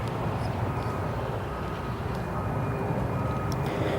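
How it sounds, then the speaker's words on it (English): A Mitsubishi CRJ regional jet on approach at O'Hare after a short hop from St. Louis, a steady broadband jet roar that holds level throughout, fairly distant, with no one talking. "that Mitsubishi CRJ coming in from St. Louis, flight time 51 minutes"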